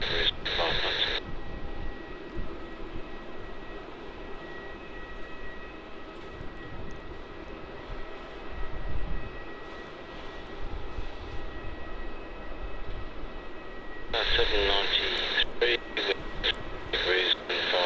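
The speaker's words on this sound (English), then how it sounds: "on screen now we have QF 1005 off to Hobart, another 737-800" Qantas Boeing 737-800 airliner departing Melbourne Airport for Hobart off runway 16, a steady distant jet engine roar throughout, with bursts of radio chatter at the start and near the end.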